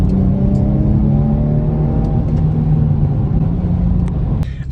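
A BMW accelerates with a loud, close engine drone that climbs steadily in pitch before easing off near the end.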